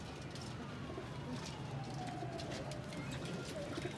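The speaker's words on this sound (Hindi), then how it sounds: "ये कबूतर है, अगला कबूतर है, पिछली कबूतरी है माशाल्लाह।" Domestic pigeons, a male and a female kept as a pair, coo softly and repeatedly at close range over a low background hum.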